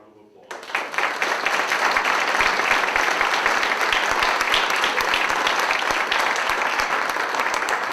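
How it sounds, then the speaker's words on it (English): A forum audience applauds the District 7 candidates, sustained clapping breaking out sharply after a brief quiet start and holding steady and full for several seconds. "let's give these candidates a round of applause"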